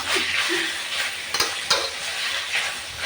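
Sweet and sour pork and chicken with cucumber and chillies stir-fries in a hot pan, making a loud, continuous sizzle broken by repeated scraping strokes of the spatula.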